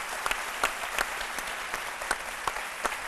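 A studio audience claps steadily for International Jazz Day during a French live television show, a dense and even burst of applause with a few sharper claps standing out.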